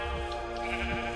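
Sheep in the Minecraft Aether II mod, video game, giving short bleats twice over a dense, steady musical backdrop, with no one speaking.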